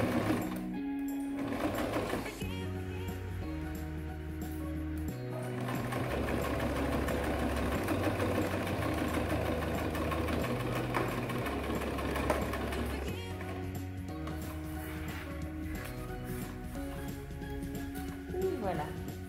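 A sewing machine stitching fabric for a small zippered pouch runs almost continuously, with a steady mechanical whir that changes speed in stretches, loud and close.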